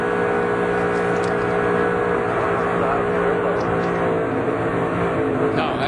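Onboard a Chevrolet stock car racing in the 2007 Daytona 500, the engine drones loud and steady at high revs with a constant tonal roar, wind and chassis rumble underneath and slight pitch shifts.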